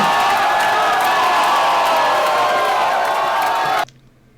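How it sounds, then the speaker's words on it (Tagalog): At a Fliptop battle rap event, a live crowd roars and whoops for the rapper Target, a dense, loud wall of cheering that cuts off abruptly near the end. "sobrang buhay ng crowd kay Target"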